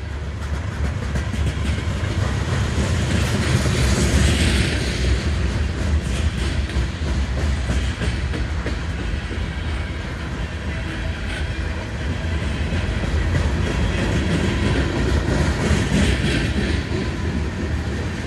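Long freight train M566, Chicago to Selkirk, with 470 axles rolling through Voorheesville: loud, steady rumble with continuous wheel clatter and rail noise throughout, passing close by.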